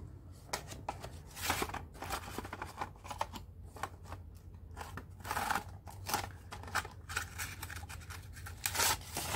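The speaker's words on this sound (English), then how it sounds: "I'm going to trim this part, which doesn't have any interesting" Scissors snip through a mixed media art journal page, a steady run of close, crisp cutting strokes with paper rustling between them and no talk.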